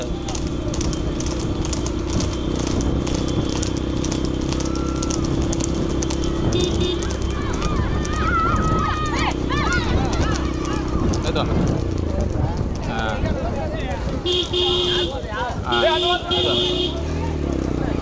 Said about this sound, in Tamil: அனைத்து குதிரைகளும் கொடி வாங்குவதற்காக முன்னேறி சீறி பாய்ந்து கொண்டிருக்கின்றன